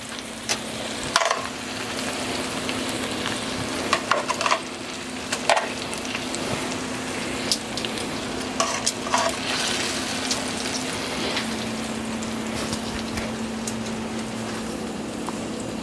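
Chicken char siu searing on a grill pan, a steady close sizzle and crackle with scattered pops throughout, no talking.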